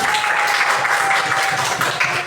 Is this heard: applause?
yes